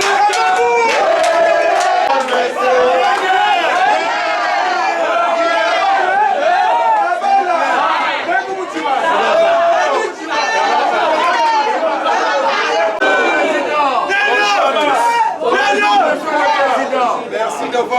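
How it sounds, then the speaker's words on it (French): Welcoming cheers and excited chatter rise from a large crowd at a walking club's sixth anniversary celebration as the president is received, a dense, continuous din of many overlapping voices, loud and sustained throughout. "nous invitons sous vos acclamations très respectueusement le président Yves Ngazana"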